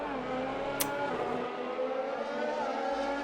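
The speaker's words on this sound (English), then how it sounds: "The loud bit is the engine as he roars past him" Racing car engine in a Formula-style racing video game, a loud continuous roar sweeping past with a steady high whine and a brief sharp click near the start, no voices.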